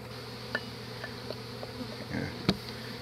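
Honey bees buzz steadily at close range while a hive sample is taken for an alcohol wash mite count, with a few brief knocks and clatters as the bees are tumbled into a tub.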